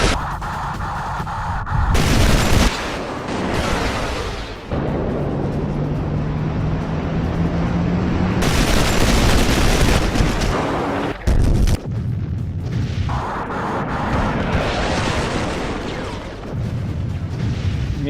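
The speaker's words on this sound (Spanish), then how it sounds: "sobre las columnas de sus explosiones, de la explosión de sus bombas" Booming blasts from bombs dropped in an air attack during the Falklands war, loud and sustained with heavy low rumbles and roaring bursts across the whole stretch, no talking.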